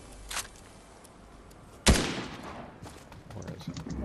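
Fortnite gunfire: a faint early shot, then one loud sharp report followed by a trailing rumble and scattered distant shots, with a voice talking under them.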